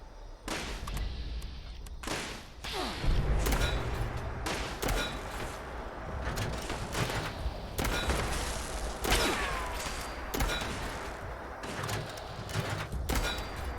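Ice Breaker weapon shooting in Fallout 76, heard as a run of loud, punchy bursts and thuds scattered through the clip over a dense background, with almost no talk.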